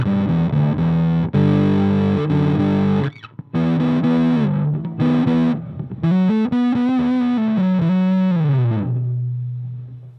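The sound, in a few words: guitar at full distortion through Orange Crush 50 amplifier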